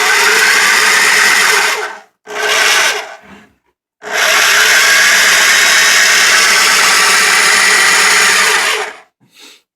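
An old Black & Decker drill drives a gear cutter through a U-joint style coupling. It gives a loud, steady whirring grind in three runs: two short bursts, then one long sustained run, with brief pauses between.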